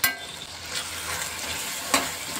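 Chopped capsicum and tomatoes sizzle in a pan while being stirred, with a sharp scrape at the start and another near the end over a steady frying hiss.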